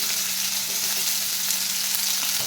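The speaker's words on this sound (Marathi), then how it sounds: "तर सुरुवातीला मी 1 चमचाभर तेल घातलंय आणि त्यानंतर याच्यामध्ये रफली चिरलेला कांदा घातलाय" Roughly chopped onion sizzling hard in a spoonful of oil on full heat for a Marathi onion-tomato chutney, a dense, bright, continuous crackle close up with no speech.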